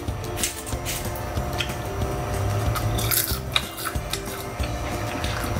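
Crunchy oven-baked chips, cooked seven minutes at 450 degrees as a Thanksgiving side, are chewed close to the microphone, giving a steady run of crisp crunches with no talking.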